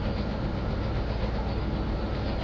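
A CTA Red Line train in a Roblox simulator rumbles steadily along the track with a continuous low roar and faint clatter, close and unbroken throughout, with no talking.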